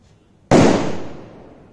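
A tightly packed hydro firecracker with a long fuse set off as a Diwali cracker test, giving one sharp, loud bang close by that decays quickly into a brief rumbling tail.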